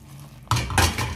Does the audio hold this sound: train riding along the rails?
no